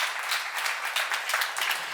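A congregation at a church seminar claps in a dense, even burst of applause, steady and fairly close throughout with no voices over it.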